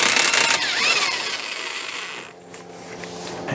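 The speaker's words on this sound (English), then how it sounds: "let's get that axle nut off" A loud mechanical whir and rattle, like a power tool spinning off the front axle nut of a 2005–2010 Chrysler 300 with a 32 mm socket, fading into quieter workshop clatter near the end.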